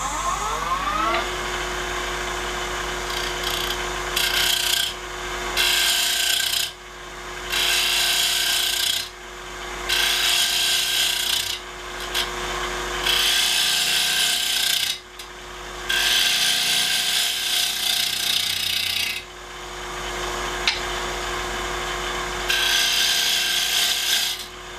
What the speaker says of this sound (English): Now I'm going to use the round tool again to start eating away at the side.